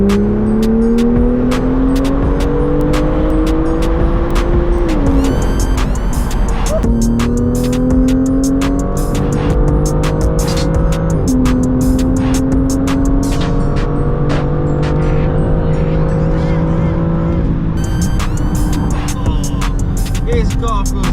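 A BMW M2 accelerating hard through the gears, the engine note climbing loudly in repeated rising pulls with brief dips at each shift, close and continuous, with some crackle on top.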